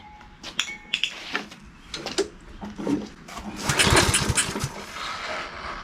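Clattering mechanical rattles and knocks, then a rough burst as the small engine of a Husqvarna AWD mower, left in a barn for three years, is pull-started and briefly sputters, close by.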